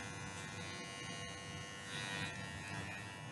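Electric clippers shaving a Shih Tzu dog's coat at home, a steady close buzzing hum that holds throughout and shifts slightly in tone as the blade moves, with no talk.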